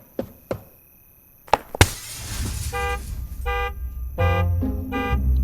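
A stone strikes a car parked in a garage, with sharp impacts and a crash, then the car alarm begins sounding in loud, repeated pulsing tones.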